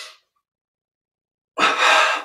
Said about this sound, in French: Double inspire.